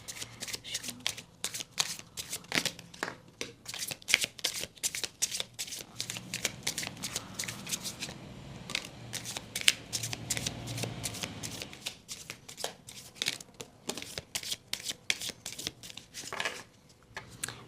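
Tarot cards being shuffled for a reading, a long run of crisp riffling flicks and soft card slaps close up, steady and rhythmic with brief pauses, no talk.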